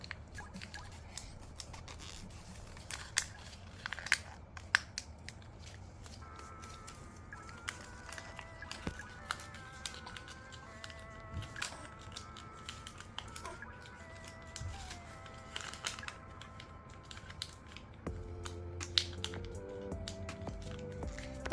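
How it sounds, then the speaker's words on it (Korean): Sheets of paper are creased and pressed while folding an origami spinning top, with soft crinkles and rustles throughout, close and fairly quiet under steady background music. "그리고 방석 접기를 해주세요"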